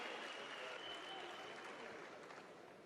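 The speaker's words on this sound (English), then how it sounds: "that round of applause for this man" Faint, distant arena audience applause for a +105 kg weightlifter at the 2015 European Weightlifting Championships, a steady wash of clapping that slowly fades.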